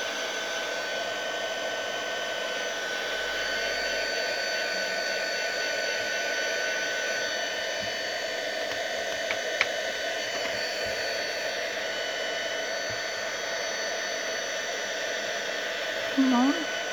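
A hair dryer blows a steady loud, hissing whoosh for the whole stretch while drying glue on a craft bauble, constant and close with only faint background clicks.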